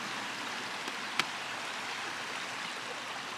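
A small river in Grafton, Vermont runs steadily in a soft, broadband wash of flowing water that holds even throughout, with a faint click or two on top.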